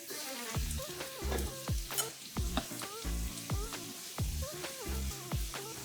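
Wilted kale is stirred in a pan, a soft sizzle overlaid by a series of distinct scraping and knocking strokes as the utensil works through the greens.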